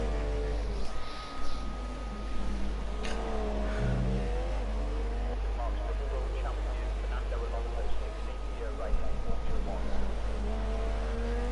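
A Formula 1 car in a racing video game on a flying lap at the Canadian round, its engine revving and whining through rising and falling pitch sweeps, with a commentator talking over it throughout.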